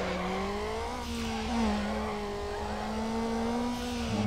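An RSX's engine revving in Need For Speed Underground, a loud sustained whine rising and dipping in pitch with faint tire squeal, no talk.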